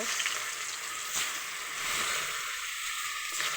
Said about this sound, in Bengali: এই যে আমার তেলটা গরম হয়ে গেছে, এখন মাছ দেব